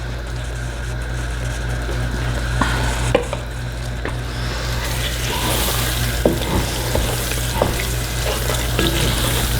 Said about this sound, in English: Alright, we're starting to simmer.